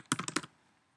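Five quick computer keyboard keystrokes pressed as a shortcut in Illustrator, close and crisp, clustered within half a second and followed by quiet room tone.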